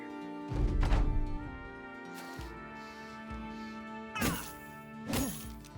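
Blunt wooden mallet blows in the game Battle Brothers, a bandit heavy striking an armored skeleton knight: a low thunk near the start and two sharper cracking hits toward the end, over a steady droning background.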